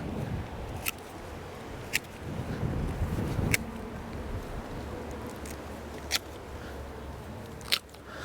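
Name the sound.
cutting sticks in a rose garden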